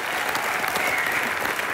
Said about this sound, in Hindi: एक बार जोरदार तालियां इनकी फिल्म के लिए।